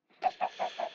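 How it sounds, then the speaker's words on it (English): Minecraft chickens from the video game cluck four times in quick succession, each short clucky note clear and close with no speech. "Got the chickens going nicely now, and they're pooping all over the place"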